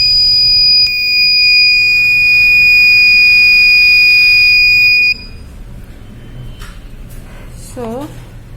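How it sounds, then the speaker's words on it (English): An ESP32 health monitor's buzzer sounds a steady, loud electronic tone for several seconds as its respiration sensor triggers, then cuts off, leaving quieter room noise with a voice speaking. "whenever respiration is detected by this sensor, then buzzer will alert"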